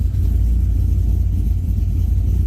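A freshly installed LS6 V8 idles steadily, a loud, deep, lumpy rumble that stays even and close throughout without any revving.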